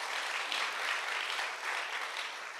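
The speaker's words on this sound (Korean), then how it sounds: "우리 다니엘에게 우리 박수 한번 해주세요." A church congregation applauds steadily, a dense, even wash of clapping from a crowd that swells slightly and holds for a couple of seconds, no voices over it.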